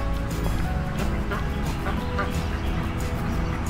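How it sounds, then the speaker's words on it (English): Birds cluck and chatter near a pond at a campsite, a busy run of short, close calls over a steady outdoor background with no talking. "Hello ducks."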